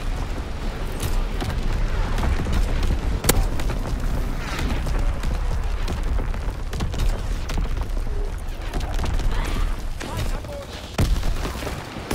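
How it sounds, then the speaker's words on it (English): Artillery explosions boom repeatedly across a World War II battlefield in Call of Duty: WWII, heavy thuds and sharp cracks scattered throughout amid continuous rumbling gunfire, with voices heard now and then. "Incoming enemy artillery."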